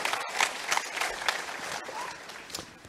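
Audience applause for keynote panelists on a conference stage, a dense steady patter of many hands clapping throughout, fairly faint.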